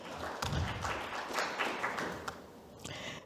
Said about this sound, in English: So Ethan does deserve your applause for that.